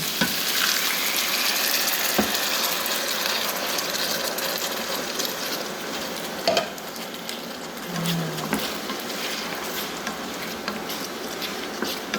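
Chicken with onion and sauce cooking in a pan, a continuous close, even sizzle and bubbling with an occasional faint clink of a utensil, no talking.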